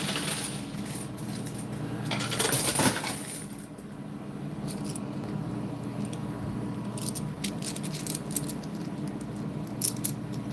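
Coins clatter in an old-style slot machine, with a louder metallic burst of dropping coins near the start, then scattered light clinks and jingles over a low room hum.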